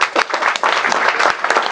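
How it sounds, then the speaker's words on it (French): An audience at an entrepreneurship coaching talk breaks into applause, a dense burst of clapping that stays loud and steady for a short moment. "Applaudissez pour vous."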